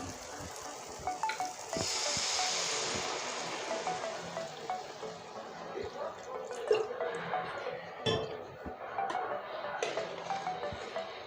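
Water goes into a simmering eggplant and egg curry in a pan, a rush of pouring over sizzling oil followed by bubbling, dripping and occasional clinks from a utensil, close and moderately loud.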